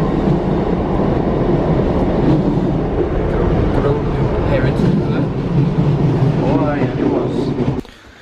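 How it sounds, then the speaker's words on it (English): A train rumbles past in the background, a steady loud roar and rattle running throughout while people talk over it, before it cuts off abruptly near the end. "Oh, you can see the train in the background."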